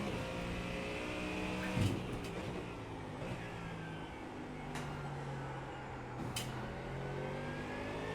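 Ford Mustang GT3 race car engine in a racing video game at Spa, whining through gear changes, rising and falling pitch with brief clicks, moderately faint and steady throughout.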